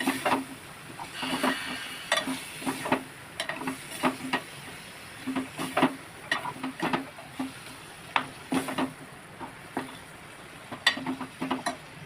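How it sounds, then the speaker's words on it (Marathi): Potato and brinjal sautéing in oil, with frequent rhythmic scrapes and taps of a spatula stirring the vegetables over a soft low sizzle, no voices. "एक बटाटा घेतला होता आणि एक वांग घेतलं होतं. तेलामध्ये छानपैकी परतून घ्यायचं."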